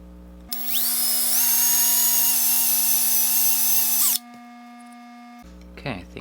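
A power drill whirs up and runs steadily at a high whine for about four seconds, drilling out a toy car's rivet, then cuts off, close and loud, with a brief clatter afterward.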